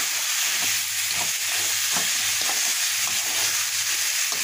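Rohu fish curry with spices frying in a pan while a spatula stirs it, giving a steady loud broadband sizzle broken by repeated scraping strokes, with no voices.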